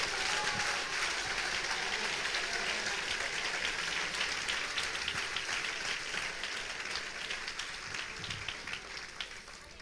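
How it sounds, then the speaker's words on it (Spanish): A church congregation gives loud, sustained applause to the Lord, dense clapping filling the room and slowly tapering off toward the end. "Dale un aplauso fuerte al Señor."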